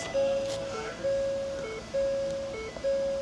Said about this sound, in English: You learn to live with the Ford chime.